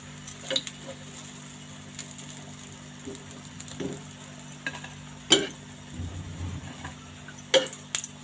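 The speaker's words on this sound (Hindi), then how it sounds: "इसी तरह से सारे बैंगन जो है वो फ्राई कर लेंगे" Eggplant slices fry in hot oil in a pan, giving a soft steady sizzle with occasional utensil clinks and scrapes nearby, close and moderately quiet.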